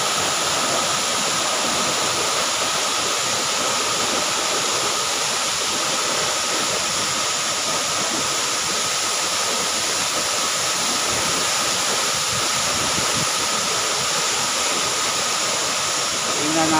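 Inambakan Falls in Hinatilan, Cebu, a two-tiered waterfall pouring in a loud, constant roaring rush heard close up without pause.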